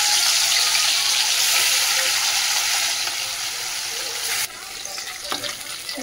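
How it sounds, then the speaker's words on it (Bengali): Fish sizzles and crackles steadily in hot oil in a wok, a loud broadband frying hiss that softens slightly near the end with a few clatters. "চলো দাদাভাই মাছটা ভেজে দাও"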